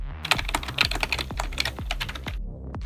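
Rapid taps on an iPhone's on-screen keyboard come through as a quick, uneven string of crisp clicks close by, with brief pauses between bursts and no talking.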